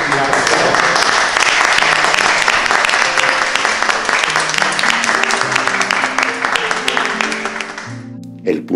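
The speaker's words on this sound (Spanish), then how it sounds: "Un aplauso." An audience applauds for the actors of a theatrical company at a medical history museum event in Extremadura, dense sustained clapping that fills the room, with music tones beneath, tapering toward the end.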